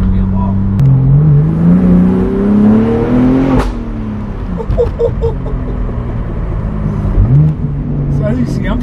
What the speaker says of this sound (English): that was a big pop it just let off